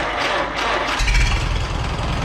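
Farmall H tractor engine starting after a battery replacement: cranking, then a loud low rumble catching about a second in and settling into a rough, steady idle close by.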